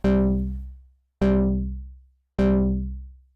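Three identical synth notes from oscillators stacked with 8 saw-wave voices each, one dropped an octave, striking in a slow even rhythm with bright buzzy attacks decaying to silence after about a second.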